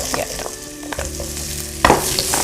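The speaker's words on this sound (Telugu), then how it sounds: "సన్నగా తురుకున్న ఉల్లిపాయ ముక్కలు ఉన్నాయి, మనం యాడ్ చేసుకుందాం." Finely chopped onions and cashews frying in hot oil, a steady close sizzle with stirring scrapes and a louder burst as more goes into the pan.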